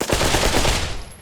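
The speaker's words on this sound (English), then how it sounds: "when you change it to auto fire, it will shoot automatically" Automatic rifle fire in the Pavlov VR video game: a rapid, continuous burst of close, loud gunshots lasting just over a second, with no voices.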